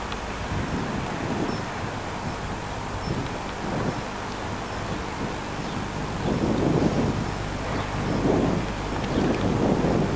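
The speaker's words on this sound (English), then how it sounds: "A little bit of wind" Steady wind buffeting the microphone outdoors at Newport, a continuous low rumble with gusts swelling louder toward the end, no voices.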